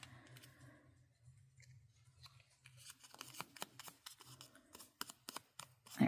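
Scissors fussy cutting around a stamped paper image, quiet at first, then a run of close, crisp snips and clicks that grow denser and louder toward the end, with no talking.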